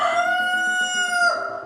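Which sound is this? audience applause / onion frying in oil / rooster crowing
rooster crowing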